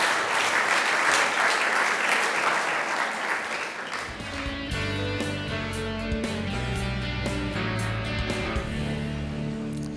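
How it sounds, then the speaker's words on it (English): Audience applause at a women's tennis Hall of Fame induction ceremony, a dense wash of clapping that fills the first four seconds and then carries on beneath loud organ-like music for the rest. "let's give one more round of applause for Gary"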